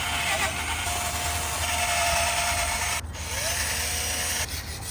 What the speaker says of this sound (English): Now we're gonna use our drill brush.